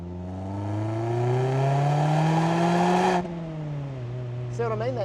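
Mazda MX-5 fitted with an HKS Legamax Premium exhaust revs up with a rising raspy engine note, then drops back as the revs fall, loud and close with no talk.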